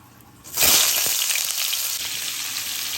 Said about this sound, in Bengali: এবার মিষ্টি কুমড়োগুলোকে ভাজবো